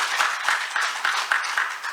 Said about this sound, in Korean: 박수 한번 크게 치십시오.